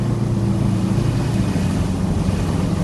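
A Subaru EA82T turbocharged engine drones steadily and loudly as throttle is added and it pulls into boost, a dense continuous roar with no talk over it.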